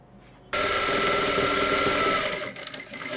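A sewing machine starts up and stitches lace onto a patch for an Afghani salwar, a loud, close, steady whir that eases and stutters toward the end.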